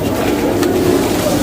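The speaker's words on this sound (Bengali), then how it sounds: "জাকে জাকে কবুতর মাজার জুড়েই রয়েছে।" A flock of Jalali pigeons at the Shah Jalal shrine makes a continuous low cooing murmur, steady and fairly loud throughout, with no talking.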